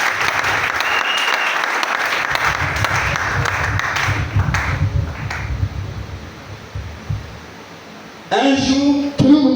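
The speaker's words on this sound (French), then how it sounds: "Est-ce que nous pouvons acclamer la parole de Dieu?" A church congregation at a fasting and prayer service breaks into loud, dense applause that gradually thins and fades over several seconds, before a voice speaks alone near the end.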